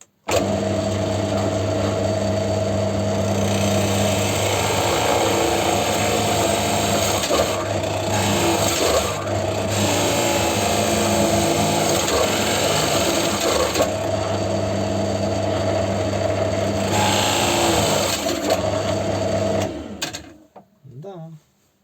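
A cheap 35 mm Forstner drill bit bores into hardwood, a loud continuous drill whine grinding through the wood for about twenty seconds, dipping briefly as pressure eases, before stopping.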